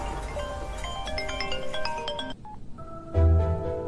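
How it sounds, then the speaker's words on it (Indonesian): A telephone ringtone plays a repeating electronic tune during a call, moderately loud and close, with a brief pause and then a low tone near the end; no talking. "telepon Serena"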